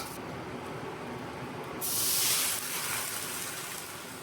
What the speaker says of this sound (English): Frying the egg until fragrant, then scooping in a ladle of water.